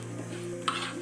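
Mustard seeds roast in a hot pan for a mango pickle, a soft steady sizzle with a faint hum beneath and one brief clink of a utensil against the pan.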